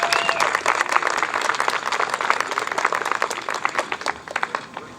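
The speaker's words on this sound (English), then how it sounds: "Everybody give him a round of applause, please." Crowd at a Union County Republican political event gives a round of applause for a candidate, dense steady clapping from many hands that thins slightly toward the end, with faint voices mixed in.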